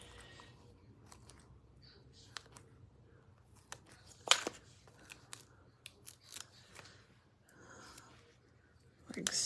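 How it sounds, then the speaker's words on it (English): Scissors snip a paper strip for a shamrock card, a few quiet, crisp cuts scattered among soft handling noises, close and faint, with low murmured speech around them. "So let me cut myself a little strip."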